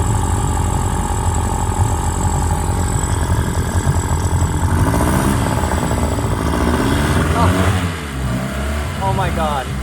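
A two-cylinder outboard engine on a skiff running with both cylinders firing, a loud close putter and drone that wavers in pitch near the end, with a voice heard over it.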